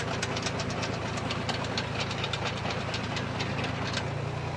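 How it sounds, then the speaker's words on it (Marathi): Tractor running at low RPM to drive a mud pump slurry unit filling a tank, a steady close mechanical drone with rhythmic knocking pulses and a constant low hum, no talk. "आता एकदम कमी RPMवर आपलं टाकी भरायचं काम चालू आहे."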